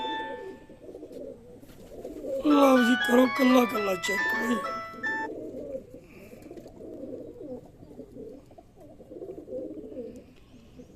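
Pigeons coo in low, repeated throaty pulses nearby while someone talks over them for part of the time.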